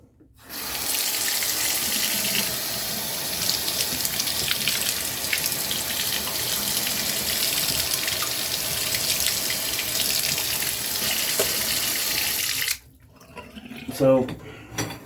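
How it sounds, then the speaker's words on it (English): Steady running tap water pours into a sink for over ten seconds, a close, continuous splashing rush while something is rinsed off, then cuts off abruptly, leaving a short moment of quieter sound afterward. "let's rinse this off."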